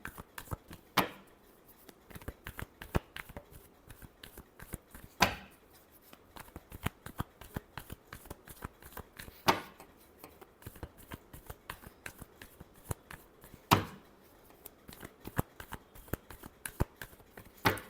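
Tarot cards shuffled by hand at close range, a steady run of crisp papery flicks and soft slaps with a few sharper riffle bursts, and no talking.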